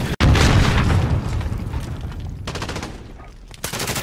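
An RPG explosion in a multiplayer shooter hits as a sudden heavy boom that rolls off into a long rumble, with sharp gunfire bursts crackling near the end.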